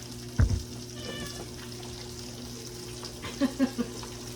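A few short cat meows, one early and a quick cluster near the end, fairly faint over a low sizzling hum of onions cooking and kitchen background.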